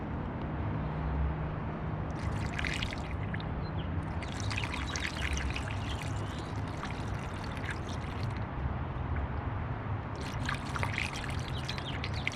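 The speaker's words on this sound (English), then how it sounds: "Gonna add some distilled water in here." Distilled water pours steadily into the radiator of a 1998 Toyota Camry 2.2, a continuous close trickling and splashing with slight surges in intensity, no talking over it.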